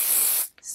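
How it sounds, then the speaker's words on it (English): Hairspray sprays onto a curl of hair in a close, steady hiss lasting about half a second, followed by a brief second puff. "I take my air spray"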